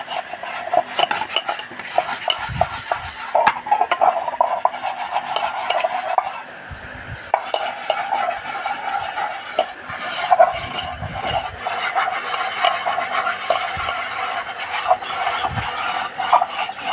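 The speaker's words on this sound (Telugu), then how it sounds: "ఇది తోమితే ఇంకా తెల్లగా వచ్చేస్తుందండి." Someone scrubs a heavily stained cooking pot after it soaked for half an hour, making a steady, rasping rub with short pauses and scraping strokes that continue for the whole stretch.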